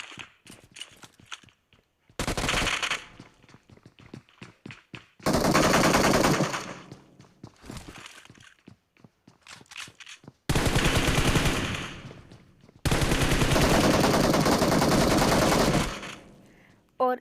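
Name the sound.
gunfire from the video game PUBG Mobile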